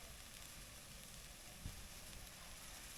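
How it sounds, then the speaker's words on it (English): Steak sizzles in a pan at a campsite in the Dordogne, France, beside a VW California campervan, a faint, even crackling hiss with one small pop midway. "So our locally bought steak is sizzling away"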